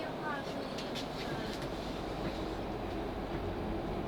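On board a South Western Railway Class 458 electric train nearing Wandsworth Town, a steady, dense running rumble fills the carriage with a few faint clicks early on and a brief whine, with no talk.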